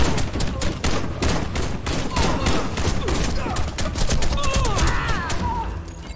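Rapid gunfire in the video game Warface, a dense, loud, continuous barrage of close shots with pistol fire mixed in and faint game effects underneath, with no clear talk.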